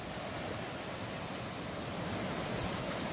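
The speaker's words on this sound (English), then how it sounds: "Waterfalls looks really nice." A waterfall in The Narrows of Zion National Park, heard as a steady, full-bodied rushing roar that fills the scene without pause and swells slightly toward the end, with no voices.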